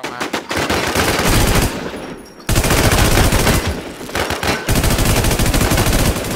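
Dense, loud automatic gunfire from the video game Infestation rattles in long sustained bursts, broken by a brief lull before the rapid shooting resumes.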